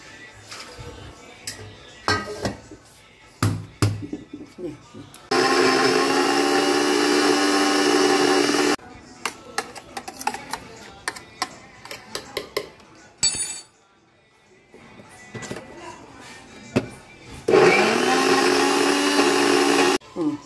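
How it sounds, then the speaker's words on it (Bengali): A kitchen mixer grinder whirs in two loud, steady bursts as it grinds boiled soya chunks, each running a few seconds, separated by clinks and handling noise. "এবার মিক্সিতে এটা গ্রাইন্ড করে নেবো"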